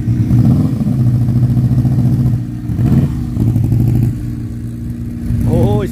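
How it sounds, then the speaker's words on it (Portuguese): A customized VW Fusca (Beetle) with Porsche styling rolls into a car show in Mogi das Cruzes, its engine a loud, close, steady throbbing drone that dips briefly and picks back up. "Olha o fuscão de Porsche"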